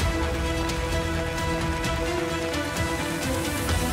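Heavy rain pours steadily through a forest in Kalimantan, a dense, constant wash of drops drumming on surfaces, loud and close, with no voices.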